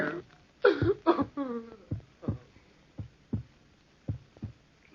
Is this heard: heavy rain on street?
no